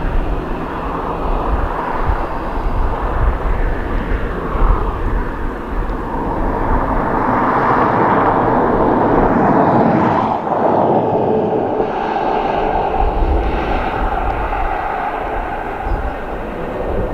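An Airbus A330 arriving from Malaga lands at Dublin Airport with speed brakes deployed, a loud, steady roar of engines and rushing air rising and swelling mid-way before easing off, heard alone without talk.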